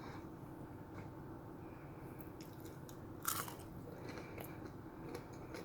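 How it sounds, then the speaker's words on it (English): Air-fried shrimp bitten close to the mouth, one sharp crisp crunch standing out mid-way with a few faint chewing clicks around it over a quiet background. "Did y'all hear that crunch?"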